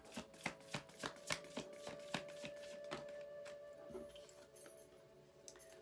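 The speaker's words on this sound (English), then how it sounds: "Let's pull some cards." Tarot cards shuffled and pulled by hand: a quick run of crisp riffling snaps in the first few seconds, then softer slides and brushes as cards are drawn, close and fairly quiet against a steady faint room hum.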